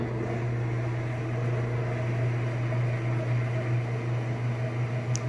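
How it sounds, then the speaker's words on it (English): An Amana washing machine spins fast with its lid raised, a loud steady mechanical hum and whir with a strong low drone that holds constant throughout. "you can see it's spinning nice and fast"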